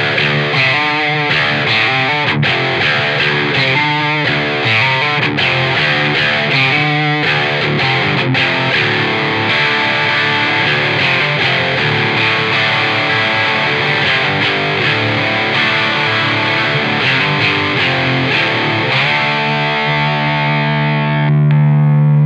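A Sire L7V single-cut electric guitar with P90 pickups plays through an amp's distorted channel, a loud, continuous, densely layered riff of chords and notes that holds steady for about twenty seconds before ringing out at the end.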